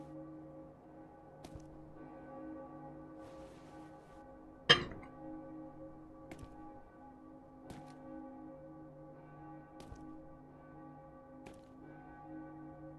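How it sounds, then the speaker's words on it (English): Stock bell sound effect in the video game Bloodborne, a single ringing bell strike with a long sustained hum, faint and distant over a low droning tonal background with soft ticks. "stock bell sound effect. That one gets used in Cradle of Nightmares."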